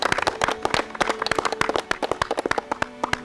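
Clapping in an Indonesian community talk show studio, a steady run of sharp, close hand claps from a small group, lasting the whole stretch with no talking over it.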